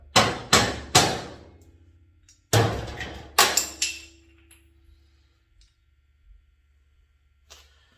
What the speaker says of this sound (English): we'll try the old magic hammer. See if that'll get it to move.